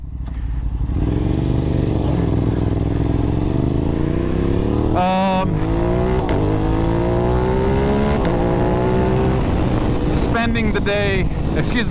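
A 2021 Aprilia RS 660 rides a track while scrubbing in its tires, engine pitch rising and falling steadily through the gears with one sharp shift blip, loud and close from onboard, with wind rush and a voice talking over it.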